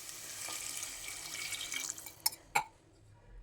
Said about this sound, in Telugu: ఇప్పుడు 3 కప్స్ వాటర్ వేసుకుంటానండి.